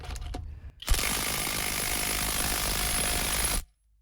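A LEADER cordless impact wrench runs for about three seconds in one steady, loud, harsh mechanical whir that starts abruptly and cuts off cleanly, close to the microphone, after a few faint knocks.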